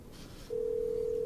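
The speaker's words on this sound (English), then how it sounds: "It's a good sign when it rings." Outgoing telephone call ringing tone: a steady, pure electronic tone starts after a brief moment of faint background noise and then holds evenly, fairly loud and alone.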